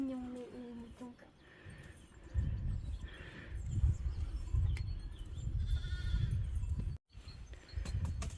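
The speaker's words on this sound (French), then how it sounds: "Trop mignon les moutons." Several sheep bleat over a bed of shuffling and rustling movement at close range, fairly quiet overall.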